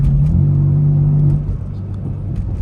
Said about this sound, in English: steering right now is heavy because I'm in Sport Plus, and you can probably hear the car more.